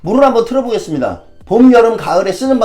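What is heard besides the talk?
None of the usual background noises is heard.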